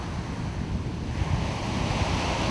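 Waves of the Calabrian sea wash steadily onto the shore, a continuous rushing surf with wind noise over the microphone and no voices.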